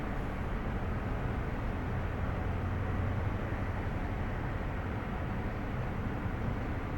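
HST Valenta diesel engine running in a Train Simulator game, a steady broadband roar and rumble droning continuously at moderate level with no pauses or voices.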